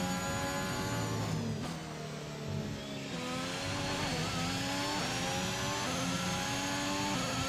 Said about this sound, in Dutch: De Renault motor klinkt in ieder geval heel goed.